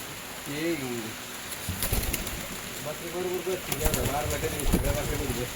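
Pigeons cooing nearby in repeated throaty, warbling phrases, with some rustling and fluttering; a person talks faintly in the background.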